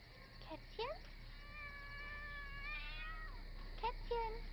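A cat in a foggy horror film scene gives several short, rising meows near the start, one long drawn-out meow in the middle and a few more close together at the end, over a quiet low background hum.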